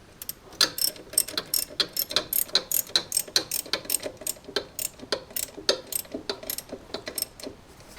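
A spanner ratcheting as it tightens the chain adjuster bolts on a Chinese quad bike, a close run of sharp, rapid clicks in uneven bursts with no talk.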